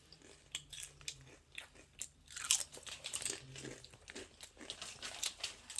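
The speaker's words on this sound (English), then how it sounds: "Back to eating Doritos." Spicy Doritos tortilla chips being eaten up close, with repeated sharp crunches and bites and rustling chewing in an uneven rhythm, loud and close with no talking.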